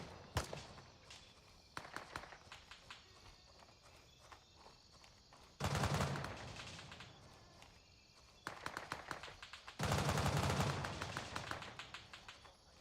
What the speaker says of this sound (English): Lots of shooting going on.